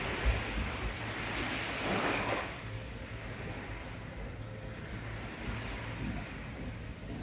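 Ocean waves washing under the pier at Teignmouth, a steady broadband roar of surf with a swelling surge early on, wind rumbling underneath, no voices.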